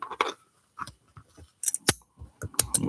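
Scissors snipping mycelium off an agar plate, a few short close crisp cuts spaced irregularly with quiet gaps between them.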